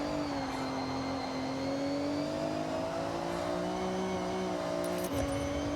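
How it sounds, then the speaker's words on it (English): Engine of a car in a driving video game, revving steadily and loud with a rising, sustained whine as the rear tires spin wildly, continuous throughout with no pauses. "I start freaking spinning my tires like mad on the back"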